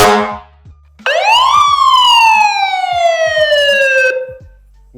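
A loud fire truck siren on a converted RV wails close by, sweeping up sharply then gliding slowly down in one long tone, with brief clicks and a short horn-like burst before it.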